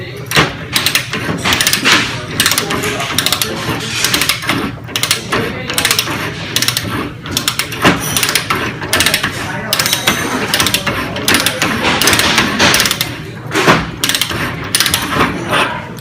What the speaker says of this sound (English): Take the pipe reamer, the vise, the pipe, and keep cranking it until you get the burrs off.